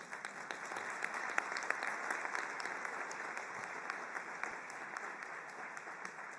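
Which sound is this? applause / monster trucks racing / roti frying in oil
applause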